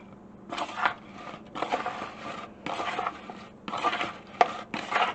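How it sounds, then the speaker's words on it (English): Raw shrimp being stirred with soy sauce and cornstarch in a bowl, with bursts of wet scraping and clinking utensil strokes in roughly five rhythmic rounds separated by short pauses, close and fairly quiet, with no talking. "We're going to mix this up very well."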